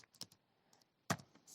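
Several quiet, sparse keystrokes on a computer keyboard, a few soft taps followed by a sharper, louder clack near the end, with no talking.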